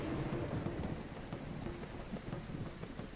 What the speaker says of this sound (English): But the lightning and stuff is quite loud.